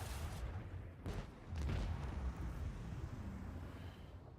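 Starship cannons fire in the video game Rogue Trader, with a few deep booming blasts and a low rumbling roar underneath, moderately loud and unaccompanied by speech.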